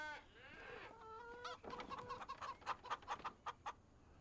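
Chickens cluck around a farm coop in Farming Simulator 25 on the La Pomarède map: a drawn-out call first, then a quick series of short, close, fairly loud clucks.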